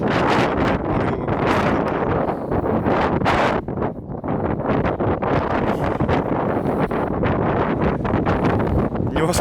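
Strong, buffeting wind gusts roar continuously across the microphone on an Alanya street, loud and close with brief dips between surges and rustling mixed in.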